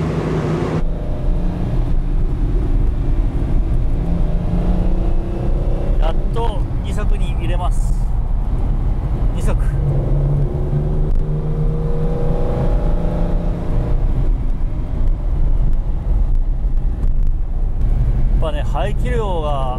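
A carbureted Lamborghini Countach held in first gear at low road speed, its engine droning and rumbling loudly inside the cabin with slight throttle swells, while someone talks over it throughout.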